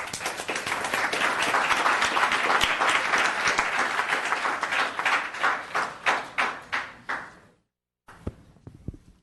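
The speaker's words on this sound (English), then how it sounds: "And another round of applause." Audience at a Los Gatos town council meeting claps in a round of applause, a dense burst that thins into a few distinct individual claps before stopping, then a short pause and scattered faint taps.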